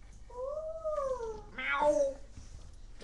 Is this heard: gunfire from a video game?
no